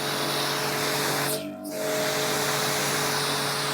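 A Karcher K4 pressure washer sprays water through its standard hose, a loud, steady, close hiss that briefly drops out for a moment before resuming at full force.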